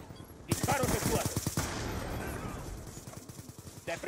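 Gunfire from the video game Call of Duty Black Ops 2, a loud burst of rapid automatic shots for about a second, then a rough rattling mix of game noise, with another sharp burst at the end.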